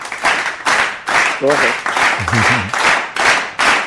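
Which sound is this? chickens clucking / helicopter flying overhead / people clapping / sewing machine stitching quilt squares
people clapping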